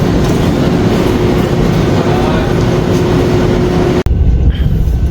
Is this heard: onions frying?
no